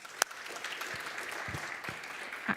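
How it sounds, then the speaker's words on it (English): A small audience applauds a speaker at a youth internet governance event, a thin, fairly quiet spread of clapping with a few sharper individual claps standing out, heard alone without talk. "A big applause for Bruna."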